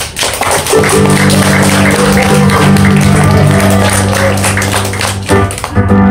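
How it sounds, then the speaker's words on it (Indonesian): Wedding guests at a church marriage blessing break into loud, sustained applause close by, a dense wash of clapping that swells quickly and holds before tapering off at the end, with a steady tone lingering underneath. "Harap bisa tepuk tangan"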